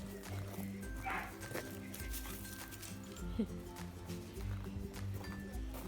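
Dogs in a kennel bark and yip in scattered bursts, some close and some farther off, with occasional whimpers, while a person talks over them.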